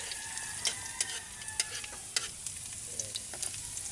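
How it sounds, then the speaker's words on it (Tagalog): Chopped garlic frying in hot oil in a pan, cooked alongside small dried anchovies, sizzles steadily while sharp stirring clicks and scrapes of a utensil break through at irregular intervals. "Naglagay na tayo ng mantika guys para kasunod na niya yung dilis. Yan, lagay na natin yung bawang."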